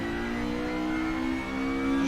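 A Ford Escort Mk1 in Assetto Corsa holds a loud, sustained high rev with a steady tonal engine whine and a brief dip before rising again, heard close and alone with no talking.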